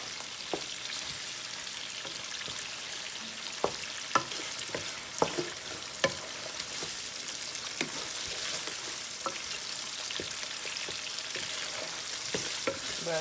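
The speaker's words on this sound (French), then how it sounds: "on va le faire revenir ensemble pendant 2 minutes" Vegetables sauté in a pan for Thai fried rice, giving a steady close sizzle and crackle. Irregular clicks and taps of a utensil stirring sound over it throughout, with no talking.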